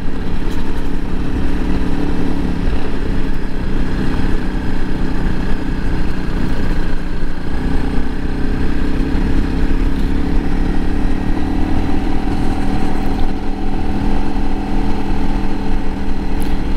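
A 2021 Honda CRF 300L Rally motorcycle's engine runs continuously during a ride, a loud, close, steady buzzing drone with slight rises and falls in revs and wind rush, no talk.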